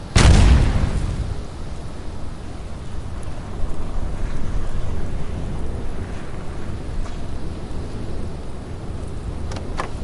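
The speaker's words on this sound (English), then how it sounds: "The storm's not letting up" A snowstorm sound effect in an eerie survival audio drama opens with a sharp, loud gust. A steady roar of wind and blowing snow follows and continues without a break.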